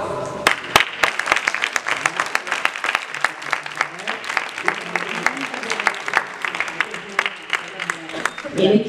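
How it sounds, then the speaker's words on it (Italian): Audience at a talk with writer Lia Levi breaking into sustained applause, dense sharp claps filling the room at moderate loudness, with voices murmuring underneath and a burst of louder clapping at the end. "un applauso."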